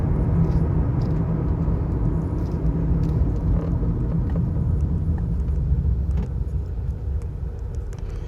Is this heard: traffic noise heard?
yes